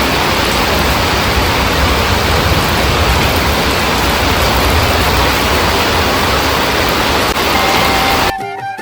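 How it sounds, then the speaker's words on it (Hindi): Steady rain pours down as a dense, even hiss that fills the scene loudly for several seconds before cutting off abruptly near the end. "और अचानक से बारिश शुरू हो गई थी।"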